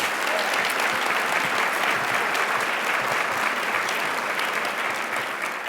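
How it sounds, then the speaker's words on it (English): Sustained audience applause for a chamber programs team at a Pinnacle Awards event, a dense, steady wash of many hands clapping without pause for several seconds. "Please give the Chamber Programs team a big round of applause"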